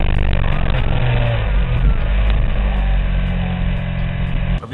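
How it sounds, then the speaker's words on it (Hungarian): A Bimota DB7 motorcycle with a V2 engine pulls hard on a race track, a loud, steady low engine roar filling the whole stretch with no voices over it. "A V2-es blokk óriási nagyot tol"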